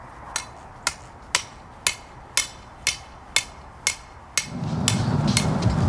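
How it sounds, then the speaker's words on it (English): A 4-foot copper earth rod is hammered into the ground with about a dozen sharp, evenly spaced metallic strikes, close and clear, before a rumbling noise takes over at the end. "a single earth rod installation is a 4-foot copper rod which we hammer into the ground"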